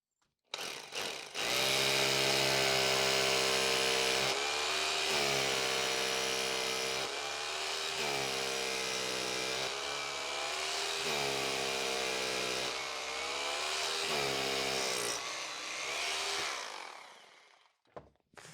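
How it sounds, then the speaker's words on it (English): A loud Bosch electric drill grinds continuously into concrete, its motor pitch dipping and recovering in repeated surges before winding down. "As you can see, the Bosch drill just digs right in there."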